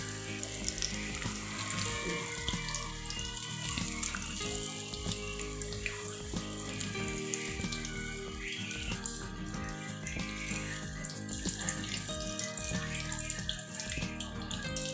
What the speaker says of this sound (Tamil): நல்லா சிம்மில் வச்சு நல்லா வேக விடுங்க.